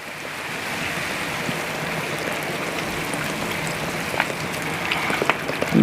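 Water pours from a bottle into a cooking pot, a steady, close splashing hiss with a few brighter spatters toward the end.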